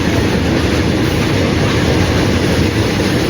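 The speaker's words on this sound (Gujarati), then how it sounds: "એટલી વારમાં માલગાડી પણ આવી ગઈ જોઈ શકો છો" A freight train pulls into Gondal railway station, a loud, continuous rolling roar of wagons passing close by with no pause throughout.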